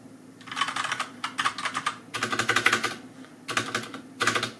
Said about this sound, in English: The keys do make some sound, but it's not really annoying and you can get used to it very easily.